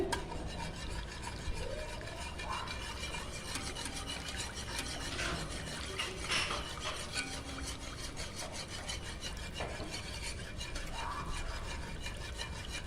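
A utensil stirs béchamel sauce with flour for lasagna in a pan, a continuous close rubbing and scraping texture that runs steadily throughout without talk.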